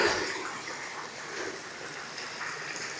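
The Southannan waterfall near Fairlie, Scotland, sends a steady, broad rush of falling water from some distance, louder at first and then settling into a constant hiss.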